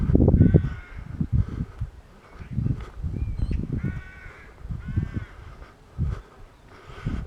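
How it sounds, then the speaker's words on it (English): Several crows caw loudly in repeated harsh bursts near a former railway junction by an all-weather pitch. Their calls overlap and answer each other, with brief quiet gaps between them. "Noisy in these parts with the crows,"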